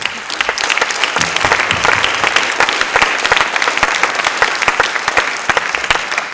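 An audience claps loudly and steadily at the BDFIL 2016 festival opening at the Capitole, dense sustained applause with no voices.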